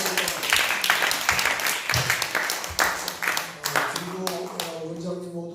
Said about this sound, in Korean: 다 우리 같이 수고를 했는데 박수로 한번